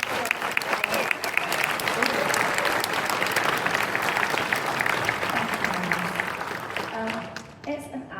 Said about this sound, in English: A round of applause for the final question.